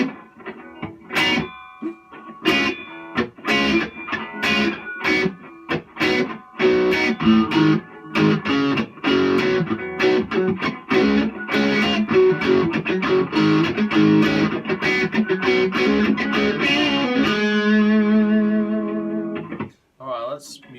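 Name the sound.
Squier Jaguar electric guitar palm muted, reverb off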